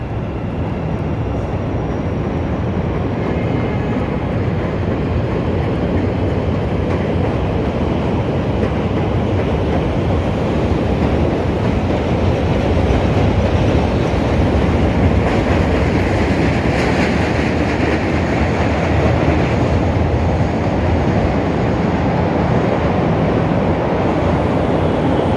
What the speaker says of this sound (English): Train number 5. Here it comes, going very slowly, which is good for the camera.